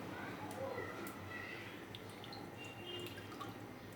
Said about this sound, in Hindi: सिर्फ इस ठंडे पानी में इसको डिप करना है